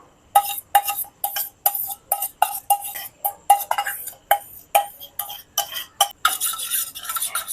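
A spoon works yogurt inside a bowl for setting sweet curd, producing a rapid series of light clinks and scrapes against the bowl in an uneven rhythm, close and clear, with no talk.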